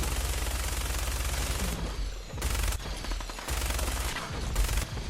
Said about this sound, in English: I'll just stay here and pelt you with minigun ammo.